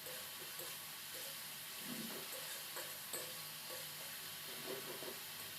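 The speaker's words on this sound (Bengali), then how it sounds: "নেড়ে চেড়ে মশলাটা কষিয়ে নিচ্ছি" Spice paste for a rohu fish curry, made with tomato, is stirred and fried in oil in a pan, a steady close sizzle with scraping strokes of the spoon throughout.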